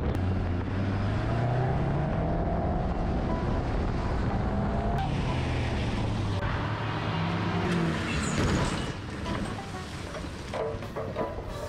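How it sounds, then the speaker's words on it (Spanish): Cars race through a Transformers: Rise of the Beasts chase scene, giving a loud, steady roar of engines and rushing air that lasts the whole time and eases slightly near the end. "Las carreras y persecuciones son, sin duda alguna, una parte súper importante en cualquier película de acción"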